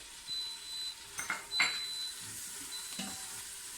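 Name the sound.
tomato puree sizzling and stirred in dhal pot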